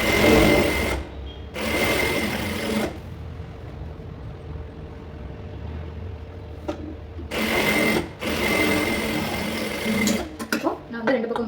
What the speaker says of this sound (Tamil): ஸோ நான் வந்து இந்த கீழே மடித்து நான் தச்சுக்கிறேன்.